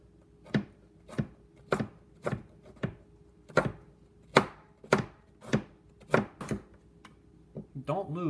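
A knife chops carrots on a cutting board in sharp, evenly spaced knocks, about a dozen strikes at a steady pace, close up.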